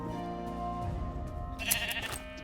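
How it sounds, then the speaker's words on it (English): Minecraft sheep bleating in a game world, a short series of mid-pitched bleats rising near the end over steady background music. "So there's sheep over here."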